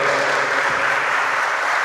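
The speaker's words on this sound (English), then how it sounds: "Let's get a hand clap for that real quick." A crowd claps at a Juneteenth celebration in Tullahoma, Tennessee, producing a dense, steady burst of applause close by, with a brief low thud partway through.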